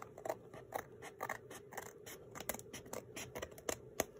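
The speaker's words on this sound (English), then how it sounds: "I probably could trim this a little bit. Try not to cut into the tape." Scissors snip repeatedly through a padded envelope being trimmed into a junk journal cover, with upholstery fabric and tape nearby; a quick, close, crisp series of cuts, fairly quiet with no talking.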